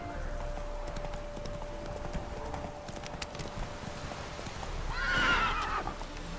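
Horse hooves clopping in The Witcher 3, joined later by a loud whinnying neigh, with game ambience and music underneath.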